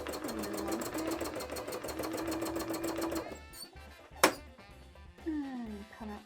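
A sewing machine stitching free-motion embroidery on a cosplay piece, a fast steady mechanical whirring chatter up close that stops partway, followed by a sharp click and a brief restart.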